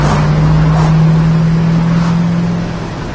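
A 1972 Plymouth Duster's engine running smoothly, a steady low hum with a sustained tone from inside the moving car, fading slightly near the end.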